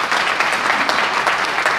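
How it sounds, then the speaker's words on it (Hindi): Loud, even applause from an audience in Patna welcoming visiting doctor-musicians from Austria, a dense sustained clatter of many hands with no gaps. "हम सभी लोग तालियां बजा के इनका स्वागत करें"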